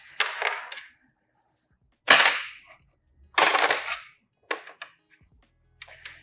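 Scissors cut through Alize Diva yarn on a punch-needle cushion in five crisp, close snips spaced by short pauses, each one sharp and quick.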